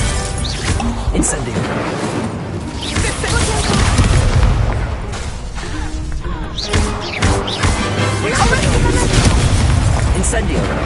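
Incendio fire spell cast repeatedly in Hogwarts Legacy, several loud bursting whooshes and fiery booms recurring over about ten seconds amid combat noise, with voices talking in between.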